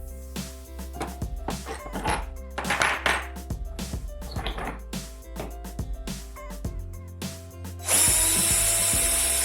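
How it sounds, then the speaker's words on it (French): A pipe fitting is loosened with a screwdriver, making close metallic ratcheting clicks and scraping in an irregular rhythm, followed by a louder sustained hissing rush near the end. "Tourne avec un tournevis, le raccord se dévisse facilement"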